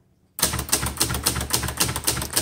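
Rapid, crisp keystrokes on a 1969 Hermes 3000 vintage manual typewriter, close and loud, with sharp clacks in a steady, slightly uneven rhythm that starts after a brief silence.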